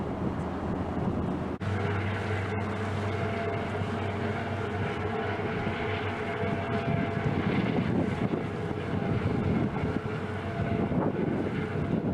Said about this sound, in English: some sort of Arab helicopter there,